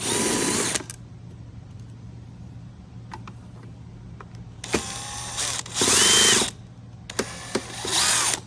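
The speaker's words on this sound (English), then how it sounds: "We have to take off these screws as well." A power drill spins out screws from a side panel of a 2015–2020 Cadillac Escalade during a main screen replacement, in several loud whirring bursts separated by quiet pauses with faint clicks.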